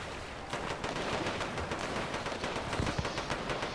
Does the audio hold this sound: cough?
no